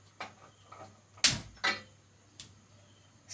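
A gas stove burner is lit under a dosa griddle in a home kitchen: a sharp igniter snap followed by a second whooshing burst, loud and close, with small clicks before and after.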